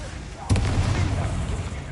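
A Confringo blasting curse explodes in Hogwarts Legacy: a sudden sharp crack followed by a deep, rumbling boom that sustains loudly to the end, with a voice speaking around it.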